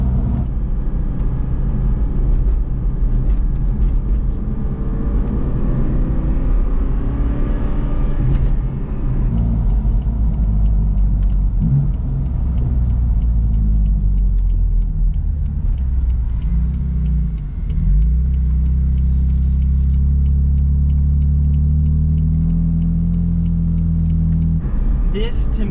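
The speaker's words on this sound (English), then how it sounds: "the exhaust is just immaculate in this car" A deep, throaty engine exhaust rumbles continuously, rising and falling as the car accelerates and eases off, loud and close throughout.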